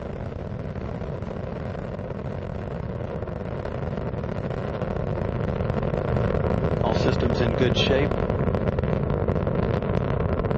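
Space Shuttle Atlantis, STS-117, climbing through the lower atmosphere after launch, its engines a steady, dense roar throughout that swells slightly louder partway through, while a radio voice talks over it.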